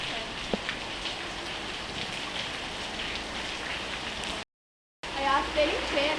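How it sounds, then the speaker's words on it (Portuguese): Steady rain hisses heavily and continuously, with drips and splashes close by as it leaks through a damaged tile roof; the sound cuts out briefly before resuming. "Aqui sim tá chovendo, hein?"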